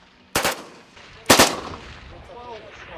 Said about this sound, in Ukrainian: бійці відпрацьовують стрільбу з автомата лежачи